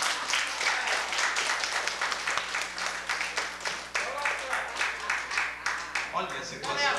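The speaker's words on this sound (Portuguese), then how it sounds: "Ei, cadê as palmas pro Toninho? Vamos aplaudir o Toninho?" An audience claps and applauds at a live show, dense overlapping hand claps filling the room with a loud voice talking over them throughout.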